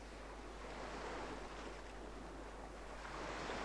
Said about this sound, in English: you've got the lovely sound of the waves in the background.